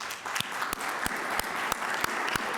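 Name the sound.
round of applause at a council caucus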